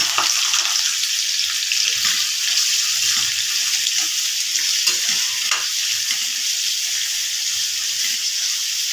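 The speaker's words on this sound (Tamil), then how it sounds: "வெங்காயம் நல்லா ப்ரௌனாக வர வரைக்கும் வதங்கட்டும்" Onions and green chillies fry in hot oil in a pan for a capsicum tomato egg gravy, a steady close sizzle with occasional stirring scrapes and no voices.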